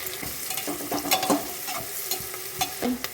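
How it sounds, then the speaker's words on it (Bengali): Chopped capsicum fries in a pan with a pinch of salt and turmeric for a vegetable pulao. A spoon stirs and scrapes in quick irregular strokes over a soft sizzle, close and clear, with no voices. "এবার ক্যাপসিকামটা দিয়ে দিলাম, এগুলো একটু ভাজবো।"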